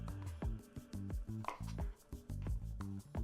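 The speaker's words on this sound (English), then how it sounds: "Just trim off and discard the tough stems" A kitchen knife cuts the tough stems off shiitake mushrooms on a cutting board for a vegan Japanese curry, giving a quick series of close, crisp chopping knocks in an uneven rhythm with no talking.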